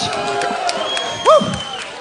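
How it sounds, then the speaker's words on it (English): Crowd at a Juggalo Championship Wrestling show claps and cheers in a continuous noisy wash, with a loud whoop standing out near the end. "Give yourself a big round of applause."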